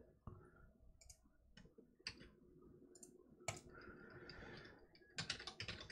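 Quiet, close typing on a computer keyboard, irregular bursts of clicking keystrokes with short pauses between, no speech.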